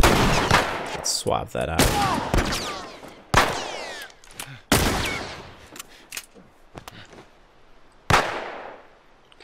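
Gunshots in The Last of Us, several sharp loud bursts spread irregularly across the stretch, with people talking between and over the shots.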